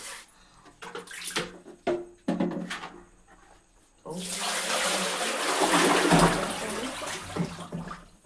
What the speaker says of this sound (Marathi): पाणी भरत लागलेलं आहे